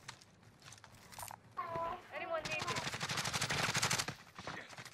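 Rapid automatic gunfire from a battle royale video game, crackling in dense bursts of repeated shots that build and sustain toward the end, with players' voices talking over it.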